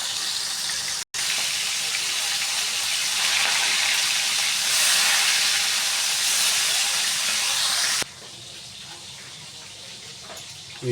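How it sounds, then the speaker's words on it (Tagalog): Taiwan fish frying in a pan for a breakfast of omelette and fried fish, a loud, steady hiss and sizzle of hot oil that swells midway and drops sharply quieter near the end. "ipiprito na natin yung Taiwan fish"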